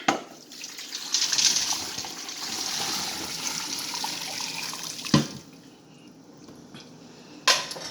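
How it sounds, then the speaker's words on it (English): Brine mixture poured into a pot over meat for smoking, a continuous splashing, gurgling pour that eases off partway, with a couple of sharp knocks, close by. "So now since that's in the pot, I'll add my brine mixture."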